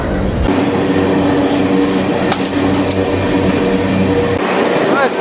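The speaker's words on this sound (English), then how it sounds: "this godforsaken train is finally going a little faster" A freight train rumbles and clatters along steadily, loud and close, with a high screech of wheels partway through.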